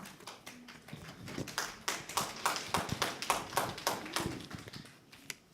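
An audience claps at a parents' seminar, a fairly faint, steady and rhythmic run of hand claps that builds, holds for several seconds, then fades out with one final clap.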